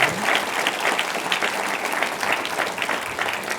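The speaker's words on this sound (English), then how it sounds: "So let's give him another round of applause for that." A lecture audience applauds Tom Poulos after his distinguished lecture, a dense, steady wash of many hands clapping together for several seconds without letting up.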